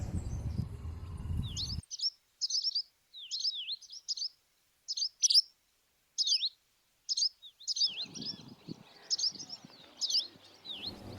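Numerous birds at a lagoon near sunset give short, repeated chirps and tweets, bright and fairly close, against a quiet background that brings in low rustling noise at the start and end.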